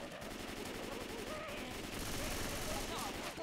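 Continuous automatic weapon fire from the zombie shooter Left 4 Dead 2, a steady rattling barrage throughout with players talking over it.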